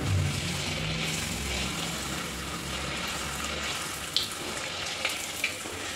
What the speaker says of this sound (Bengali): তো আমি কিন্তু পুরো লালচে করে ভাজবো একদম।